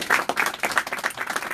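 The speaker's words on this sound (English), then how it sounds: "Let's give a strong round of applause to our dynamic, energetic county chairman, Marcos Crespo" Crowd applause at an endorsement press event, greeting a county chairman; dense, steady clapping from a nearby group, moderately loud and alone without speech.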